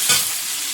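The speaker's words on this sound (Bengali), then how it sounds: "তেলে একটু শুকনো লঙ্কা দিলাম, পেঁয়াজ কুচি," Dried red chili and chopped onion hit hot frying oil in a pan, giving a loud, steady, close-up hiss that never stops during the brief moment.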